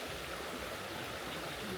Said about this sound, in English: The river is right behind me.